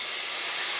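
Tomatoes hit hot oil and spice powders in a pan while a vegetable korma is cooked, giving a loud, steady sizzling hiss throughout.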